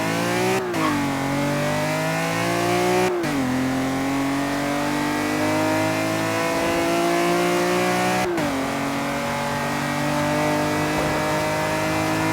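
A BMW S54 B32 3.2-litre inline-six engine revs hard and steadily, its rising scream broken by a few sharp shifts in pitch, loud and close with no voices.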